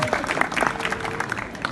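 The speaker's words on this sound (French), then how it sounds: "On applaudit s'il vous plaît" Applause from a live audience at a 2019 show in Crémieu, a short burst of scattered clapping with some voices mixed in.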